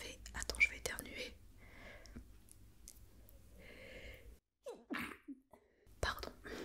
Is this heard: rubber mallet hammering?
no